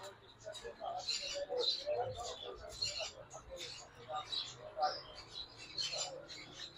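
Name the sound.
sun conure breeder pair calling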